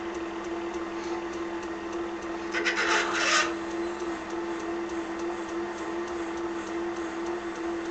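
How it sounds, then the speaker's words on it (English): A reamer cuts through metal on a small vertical engine part, producing a soft, steady rasping drone over a faint machine hum, with a brief louder scraping burst near the middle. "And now the reamer."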